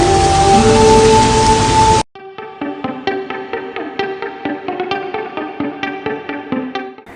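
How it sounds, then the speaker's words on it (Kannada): Rain pours as a dense, loud hiss for about two seconds, then cuts off abruptly and gives way to a rhythmic, plucked tonal pattern. "ಮಳೆ ಶುರುವಾಯ್ತು"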